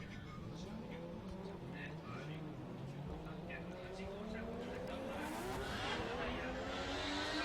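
Mazda RX-7 FD3S drift car on a qualifying lap at Ebisu, engine note rising in sweeping harmonic climbs with a late surge of tire hiss and squeal, heard under continuous commentator talk at a steady, fairly loud level.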